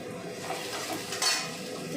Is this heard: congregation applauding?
no